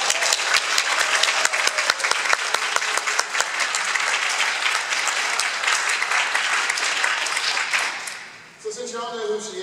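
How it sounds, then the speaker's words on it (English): At a Readercon convention event, an audience gives sustained, dense applause to a guest of honor, loud and steady for several seconds before fading as a voice begins speaking. "Please give her a round of applause."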